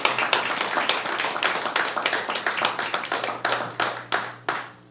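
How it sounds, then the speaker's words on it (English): Audience clapping at a storytelling open mic night, brisk and close, thinning into a few scattered final claps. "One more hand of applause,"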